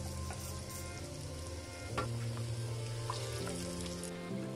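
Egg bajji deep frying in hot oil, a steady dense sizzle and crackle throughout with a few soft clinks of a utensil, fairly close and with no voices.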